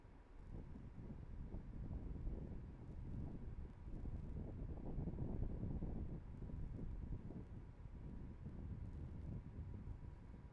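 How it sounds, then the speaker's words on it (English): Steady low wind rumble buffeting outdoors at night at Cape Canaveral, a continuous broadband roar with gentle swells in strength and no voices. "It is a bit windy tonight"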